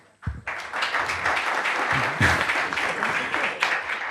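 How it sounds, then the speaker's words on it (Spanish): Dense, steady applause from a seated audience at a football and law conference fills the room, starting abruptly after a short pause and holding at an even level with a brief swell midway. "No arranquen con un aplauso que luego se aburren."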